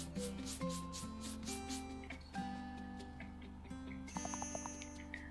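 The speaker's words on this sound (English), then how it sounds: "So let's clean the wall." Wall cleaning in House Flipper 2: a repeated rubbing, scrubbing stroke sounds in quick succession, layered over sustained tonal game music and ending with a brighter chime-like flourish.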